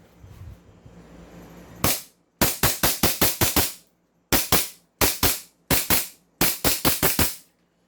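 A Babayaga airsoft pistol modeled on the John Wick gun fires in quick bursts of sharp, loud cracks, roughly twenty shots grouped in rapid strings with short pauses between them.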